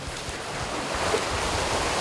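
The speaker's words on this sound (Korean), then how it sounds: "파도가 심상치 않네요." Steady rushing surf of rough ocean waves at a rocky island shore, broad and continuous with a low rumble, with some wind noise; no voices.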